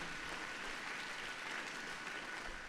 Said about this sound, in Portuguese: e aplauda o Senhor em nome de Jesus